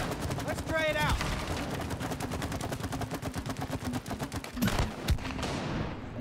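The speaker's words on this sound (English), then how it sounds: "May, I think it's a shooting range. Let's try it out" Sustained gunfire at a shooting range in the It Takes Two video game, a steady rapid stream of shots with sharper louder cracks near the end, over game music and effects.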